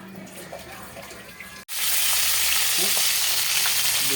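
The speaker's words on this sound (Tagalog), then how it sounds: "Painit ng kawali para sa tilapyang prito." Tilapia hits a hot pan and bursts into loud, steady frying, with quieter kitchen sounds before the sizzle takes over.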